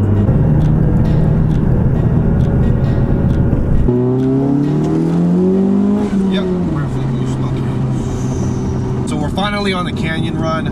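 A car with an aftermarket performance shifter pulling away on a canyon road, a loud steady engine drone giving way to rising revs through gear changes, with people talking in the cabin over it.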